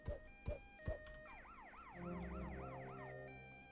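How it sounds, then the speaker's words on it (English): In the video game GTA Vice City, three sharp thuds are followed by an ambulance siren wailing in a rising and falling pattern, fairly close and steady, with a low engine hum beneath it. "How did the ambulance get here?"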